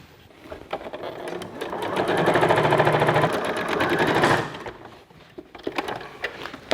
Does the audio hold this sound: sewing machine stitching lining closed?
yes